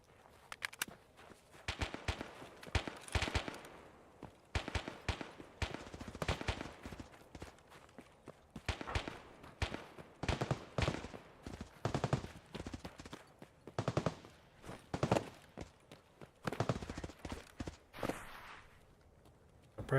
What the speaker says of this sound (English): Rapid fire. Probably not an M4. Probably a vector